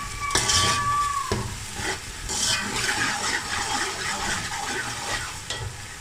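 Whole spices, cloves, star anise, bay leaves and curry leaves, sizzle in hot oil while a utensil scrapes and stirs the pan, with a steady crackling hiss and no talking.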